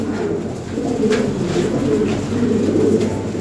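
Toy Lahori pigeons, a newly adult pair, coo steadily in a close, continuous low murmur with no talking over it.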